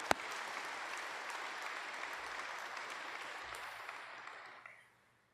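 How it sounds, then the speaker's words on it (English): A conference audience claps steadily for about five seconds during an awards presentation, the dense applause fading out toward the end, with no talking. "And a round of applause for CalBO"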